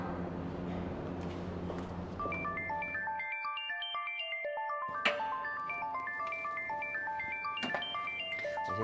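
A mobile phone ringtone plays a bright electronic melody of chiming notes, ringing steadily and clearly for several seconds with no talking over it.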